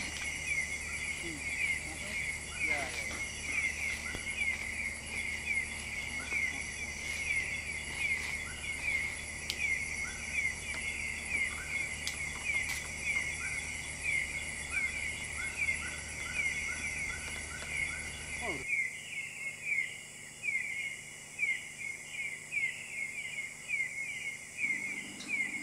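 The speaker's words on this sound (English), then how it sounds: "a lot of insects that you can hear in night" Insects chirp at night in Mulu National Park, Borneo, in a continuous high-pitched chorus, with rapid pulsing trills layered over a steady background hum that drops away near the end.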